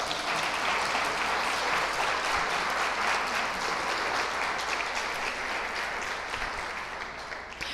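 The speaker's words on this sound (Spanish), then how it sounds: "Denle un aplauso al Señor" Sustained applause from a church congregation giving praise to the Lord, a dense, even clatter of many hands filling the room, steady throughout and easing slightly at the end.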